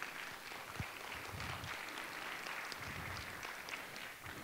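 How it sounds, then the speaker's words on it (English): Faint, steady audience applause fills a town hall meeting as attendees clap for teachers. The clapping sounds distant and even throughout, with no voices rising above it. "Yes, please give teachers a round of applause for that."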